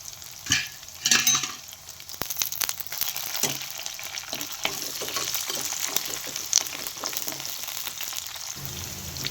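Curry leaves sizzling in hot oil alongside green chillies for a cabbage stir-fry, a close, steady crackling fry with occasional sharp spatters and stirring clinks, no talking.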